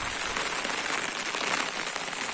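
Heavy, fast rain pours down outdoors while rainwater runs along the road, a dense, loud, unbroken hiss of drops striking the surface with no voices.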